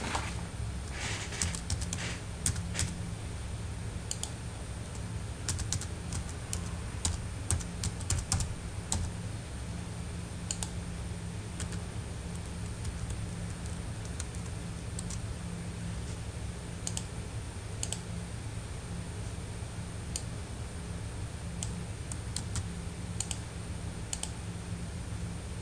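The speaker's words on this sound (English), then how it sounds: "Begin typing your information into the table." Computer keyboard typing, steady close key clatter running throughout with bursts of quicker clicks and a constant low background hum.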